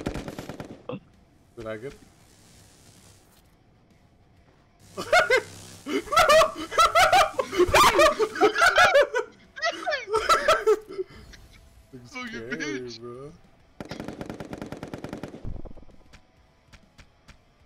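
Video game gunfire rattles out in bursts from an overpowered gun in Pummel Party, mixed with players laughing and talking loudly over the shots.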